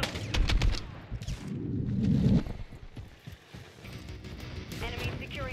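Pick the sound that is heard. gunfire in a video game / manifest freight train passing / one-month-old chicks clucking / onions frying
gunfire in a video game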